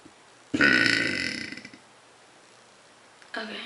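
Two closed-mouth belches by a woman, heard up close: the first is loud and drawn out for over a second before fading, and a shorter one follows after a pause.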